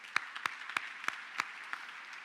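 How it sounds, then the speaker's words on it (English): Sparse applause at a high school honors convocation, with a handful of distinct claps spaced across a soft bed of audience noise, moderately distant. "Let's give them a round of applause."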